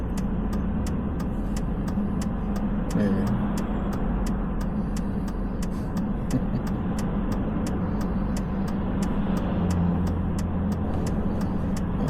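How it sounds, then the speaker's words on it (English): Steady road traffic on a busy Monday morning in Minot, North Dakota, cars and trucks rumbling past continuously at close range with a constant broadband drone; a voice speaks very briefly. "That's the kind of traffic you'd expect when the fair was here, but not like Monday morning."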